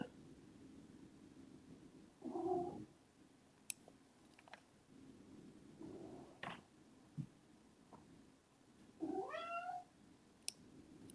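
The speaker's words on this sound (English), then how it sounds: "My cat's in the room." A house cat in a room gives a couple of short meows, one a rising, wavering call near the end, spaced among quiet clicks and small indoor noises, fairly close and soft.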